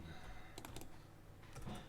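Computer keyboard typing at an antique auction: a few quick, faint bursts of key clicks spaced apart over a low, quiet room background.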